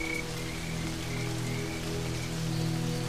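A sudden, heavy rain falls across the open Serengeti plains as a dense, even patter that holds steady throughout, with no voices.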